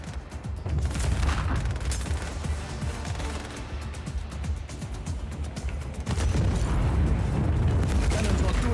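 Cannon fire and explosions from the video game Just Cause 4, a dense, loud rumble of booming blasts and rapid gunfire that grows heavier toward the end.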